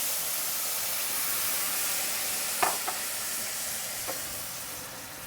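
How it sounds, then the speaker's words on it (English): Broth poured into a hot pan for a second deglazing, giving a steady broad sizzle and hiss with a few sharp clinks of stirring, close and moderately loud, no voices. "Now I'm going to deglaze this the second time"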